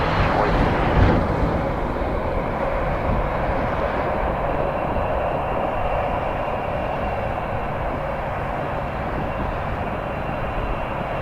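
A jet airliner lands on runway 24 at Toronto Pearson Airport, giving off a steady, broad engine roar. The roar swells briefly near the start and then holds at an even level, heard from a distance with no talk.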